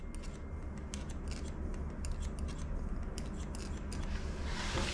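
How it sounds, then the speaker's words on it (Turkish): Scissors snipping through hair during a layered haircut, a steady run of crisp closely spaced cuts heard up close, with no talking. "makasla da böylece aldık"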